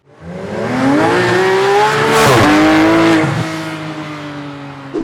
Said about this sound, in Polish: Wystarczy tylko lewą stopę położyć na hamulcu, prawą stopą wcisnąć gaz i jedziemy.